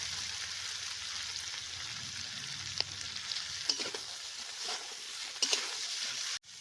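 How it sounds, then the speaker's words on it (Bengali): Ginger paste fries in a pan with a steady, continuous sizzle, broken by a few scraping stirs from a spoon during the cooking of shukto, a Bengali vegetable dish. There is no talking. "আদাগুলো দিয়ে ভালো করে আরেকটু ভেজে নিলাম"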